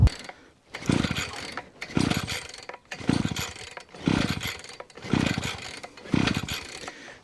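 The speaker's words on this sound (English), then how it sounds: "a successful lawnmower start" A lawnmower being started by pull cord, six rhythmic rasping pulls about a second apart, each a rising whirring burst of the engine turning over, close and fairly loud.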